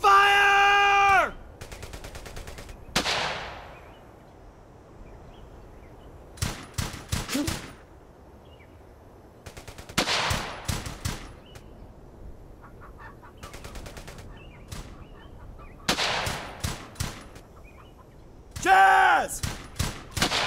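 Intermittent bursts of rapid gunfire in the World War II video game Brothers in Arms: Hell's Highway. Loud volleys break out every few seconds between quieter gaps, and short vocal outbursts sound at the start and end.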